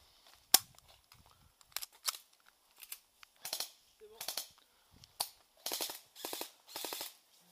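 Airsoft guns fire during an outdoor skirmish game, a sharp close crack followed by repeated short bursts and rapid rattling volleys at varying distances, with faint voices in between.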